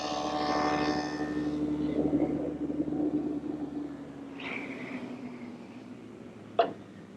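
Table saw fitted with a stacked dado head cutter, cutting dados in cupboard stock: a loud whine at first that winds down slowly, followed by a few faint knocks and a short sharp click near the end.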